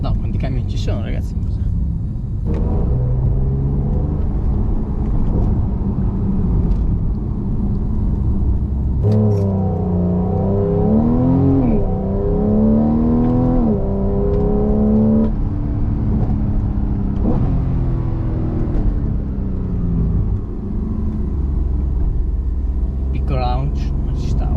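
A Porsche 911 Carrera accelerates hard from a launch, its engine note rising in a steady rumbling surge over continuous road noise. A voice talks over it in the middle of the run.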